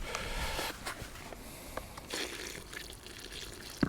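Water is poured into a bucket of roach groundbait mix, giving an irregular splashing and trickling close up with a few sharper drips and knocks.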